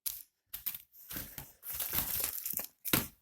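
Plastic wrapping around drone frame parts crinkles and crackles in close bursts, several crumpling handfuls broken by short pauses, with no talk.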